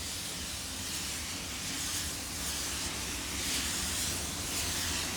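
Spray gun laying a second coat of clear coat on a car, a continuous broad airy hiss with gentle swells as passes are made, close and steady without speech.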